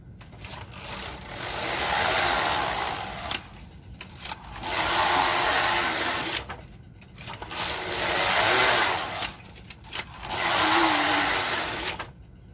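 Sewing machine stitching the collar of a red sweater runs in four sustained, loud whirring bursts with short pauses and clicks between them, close by and uninterrupted by talk.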